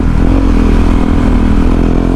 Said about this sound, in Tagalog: Bali 3 motor kami, isang sniper tsaka isang NMAX.